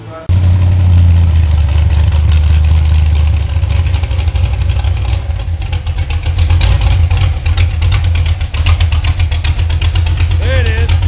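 A newly installed 454 engine runs loudly and close by, a deep rumbling idle with uneven revs and mechanical clatter throughout, while people talk over it.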